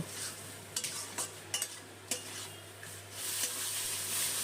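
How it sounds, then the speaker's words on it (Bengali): Cauliflower leaf paste mixed with salt, turmeric and sugar being stir-fried dry in a pan, with a faint low sizzle, a few sharp spatula scrapes and clinks, and a soft steady background hum. "আরও কিছুক্ষণ পাতাটা একটু ভেজে নিয়েছি"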